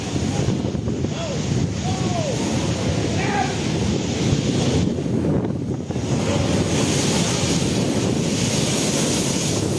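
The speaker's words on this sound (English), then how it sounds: "Giant waves unleashed by Cyclone Harry turned the waterfront of Catania, Italy, into a dangerous scene" Giant storm waves from Cyclone Harry crash against the Catania waterfront in Italy, a steady, loud roar of surf mixed with heavy wind buffeting the microphone throughout.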